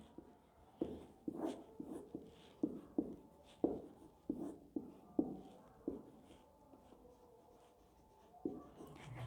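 A teacher writes on a board during an organic chemistry lecture, making a run of faint, quick taps and scratches in short rhythmic bursts, then a brief pause and a little more writing.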